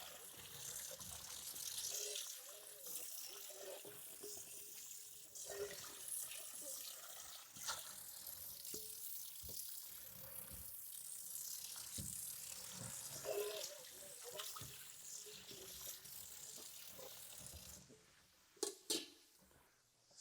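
Steady tap water runs into a kitchen sink while something is rinsed under it, a continuous close hiss with small splashes, a few knocks near the end.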